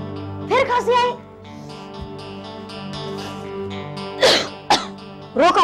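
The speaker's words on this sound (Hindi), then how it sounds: "रोक अपनी खांसी।" Throaty coughs erupt in short bursts in a drama scene, one early and a few more toward the end, over a sustained musical backdrop.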